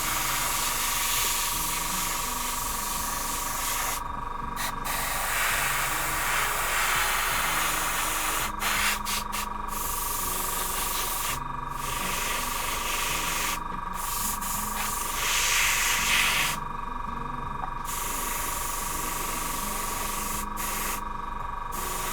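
Metallic paint sprayed onto a model base, a steady continuous hiss running throughout with short breaks, close and fairly loud, over low background music.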